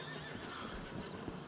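Horse in Red Dead Redemption II, a short burst of whinnying with hoof clatter over a dense, busy game soundscape, moderately loud and continuous, no speech.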